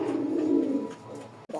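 Sky-blue Rajgolla pigeon cooing close by, a low steady murmuring coo lasting about a second before a short pause and a brief second coo.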